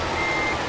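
Truck reverse alarm in Euro Truck Simulator 2, a steady electronic warning tone running without break under engine rumble as the rig backs a trailer slowly into a parking spot.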